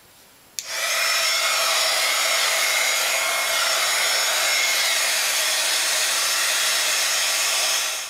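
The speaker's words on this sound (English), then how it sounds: "we'll dry with the heat gun" A heat gun drying wet paint on a journal page switches on abruptly with a click and then holds a loud, steady airy whoosh with a constant whine, running alone without pause until it cuts off at the end.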